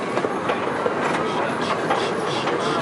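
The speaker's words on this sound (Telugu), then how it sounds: "అదిగో ట్రైన్" A small train at Oakland Zoo passing close by, a continuous rumbling clatter of wheels on track, with people talking over it.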